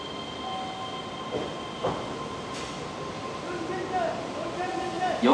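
A Keihan 8000 series limited express bound for Yodoyabashi pulls into Hirakatashi station with a rumbling run of wheels and faint squeals over steady platform hum, as a station announcer's voice carries nearby.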